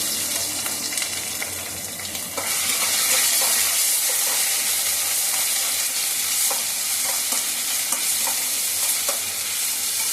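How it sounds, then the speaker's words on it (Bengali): Ginger paste fries in a pan and is stirred, giving a loud, continuous sizzle with light scraping strokes from close by. "এটাকে নেড়ে নিয়ে সামান্য একটু জল দিয়ে"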